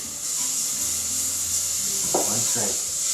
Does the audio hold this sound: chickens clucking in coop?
no